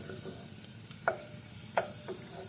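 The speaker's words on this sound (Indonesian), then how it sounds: "Kita tumis dulu bawang putih," Garlic and shallots sautéing in a pan for hash browns, a steady low sizzle with a few sharp clinks of a utensil against the pan, close by and without talk.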